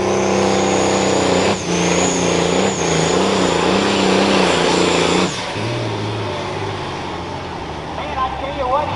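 Chevy pulling truck, an '06, roaring loud and close at a truck and tractor pull, a sustained high-revving engine wail that cuts off abruptly partway through, leaving crowd noise and an announcer talking.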